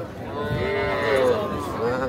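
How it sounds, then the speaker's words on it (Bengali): A young local-breed bull calf bleats and lows in drawn-out calls while people talk nearby at a busy outdoor livestock market. "এটা একটা ষাঁড় বাচ্চা দেশাল জাতের"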